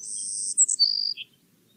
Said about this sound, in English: Others sound more like a buzz. For example, a savanna sparrow.